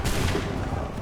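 Musket volley in Assassin's Creed III Remastered, a dense, booming wash of simultaneous shots rolling out loudly and filling the short moment.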